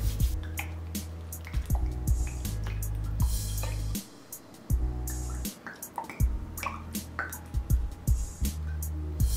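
Water is poured onto the soil of a potted snake plant, with close drips, splashes and soft squishing over a low steady hum and a few short pauses.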